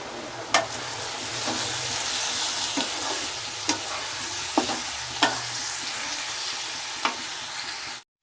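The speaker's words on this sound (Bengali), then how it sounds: "এবার আমি এটা আবার নাড়তে থাকবো।" Chicken keema with onions, salt and turmeric is stirred in a frying pan over steady sizzling, with a handful of sharp spatula knocks against the pan at irregular intervals, close and with no talk.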